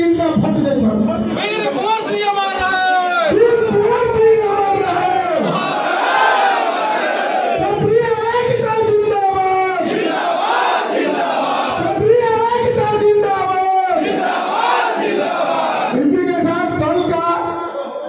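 A large crowd at a Kshatriya community rally loudly chants slogans in unison, repeated rhythmic shouted phrases filling the air nonstop at close range.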